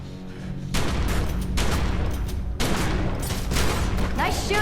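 Sustained bursts of loud gunfire fill a cutscene from The Secret World, near and dense with rapid repeated shots, briefly easing between volleys while voices speak underneath.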